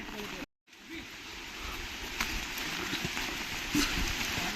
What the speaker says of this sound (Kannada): ಜೋರು ಮಳೆ, ತುಂಬ ಕಷ್ಟ ಇದೆ